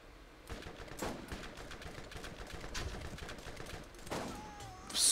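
Gunfire in the shooter game Borderlands comes at a slow rate, a handful of separate shots spread across the stretch over a busy background, each one a sharp burst, with a louder blast near the end.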